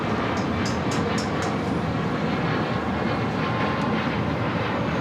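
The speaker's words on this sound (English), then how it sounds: "That was Southwest Airlines Flight 3603 heading to Dallas Love Field in a 737 MAX" A Southwest Airlines Boeing 737 MAX jet roars steadily at LAX, a loud, continuous broadband engine rumble that stays constant throughout with no voices.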